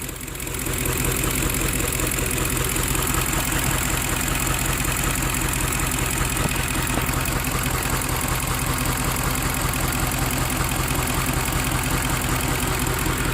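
The engine of a 2010 Ford F-150 XLT idles in a steady, loud drone with a fast, even ticking running underneath, constant throughout with no voices.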